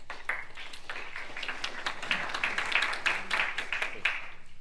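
Scattered audience applause at a Republican primary debate, a steady patter of clapping hands from a moderately sized crowd in a room, fairly even in loudness throughout.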